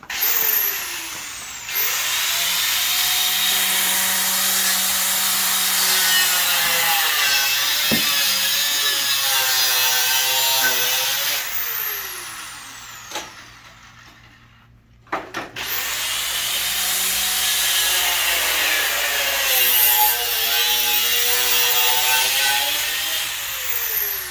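A Dremel rotary tool cuts a door lock cutout in wood with a loud, steady high-pitched grinding whine. It pauses briefly midway, then resumes, with the pitch wavering as the cut proceeds.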